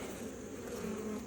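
A quiet, steady drone of honeybees hums around an open hive during an inspection. The buzz is low, continuous and close, with no voices over it.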